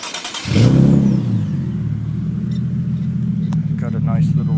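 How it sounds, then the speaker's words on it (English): A 2013 Magma Red car with FI resonated test pipes idles after starting up, giving a steady, deep exhaust rumble close by with a light rasp on top, running alone without voices. "Got a nice little rumble sound."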